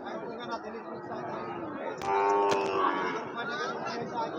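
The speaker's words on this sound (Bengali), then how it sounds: "যথেষ্ট ভালো পার্সেন্টের গরু এগুলো।" Sahiwal cattle, red Sahiwal bull calves among them, at a busy Bangladeshi cattle market: a loud, drawn-out moo rises over steady crowd chatter and background market noise.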